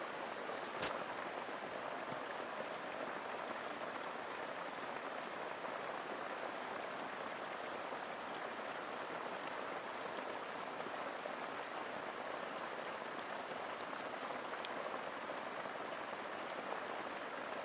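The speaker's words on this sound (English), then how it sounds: "It's absolutely pouring down." Heavy rain pours down steadily onto a jungle shelter, a constant faint hiss of drops with occasional sharper patters and no voices.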